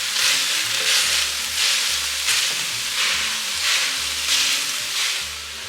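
A whole white onion frying in a pan: a steady, close sizzle and hiss with a low bubbling underneath and occasional stirring swells, continuous throughout with no voices.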